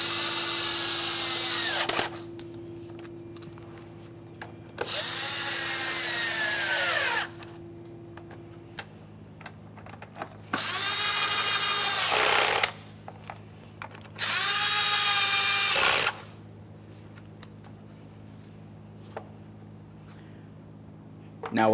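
Power tool driving the air filter box mounting bolts on a 1994-1997 Honda Accord, several separate whirring bursts of about two seconds each with pauses between them, close and fairly loud over a steady low hum.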